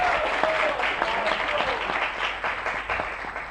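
A crowd at a university event gives a sustained round of applause, dense and even for several seconds, with faint voices mixed in under the clapping.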